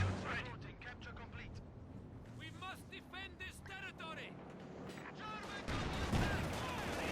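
A Panther tank fires its cannon during a Company of Heroes 2 battle. Dull booms and battle noise sit low under continuous excited commentary.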